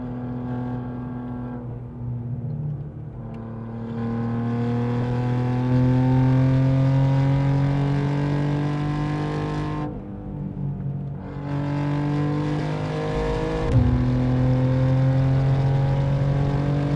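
A 711HP BMW G87 M2 Clubsport on the Nürburgring Nordschleife, its engine droning loud and near through long rising pulls, with brief dips and sharp shifts between them, no voices heard.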